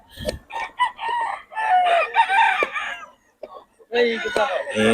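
Young gamecock stags on a farm crow and cluck repeatedly, close and loud, in overlapping calls with a brief pause before more crowing.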